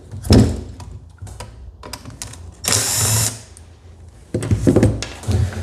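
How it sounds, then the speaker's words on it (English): A T20 Torx driver works a screw loose on a Husqvarna 240 chainsaw during carburetor replacement, making close, sharp clicks, taps and a brief scraping rasp. The bursts are irregular and loud. "What we're gonna do is swap out our T25 for a T20 and remove the screw."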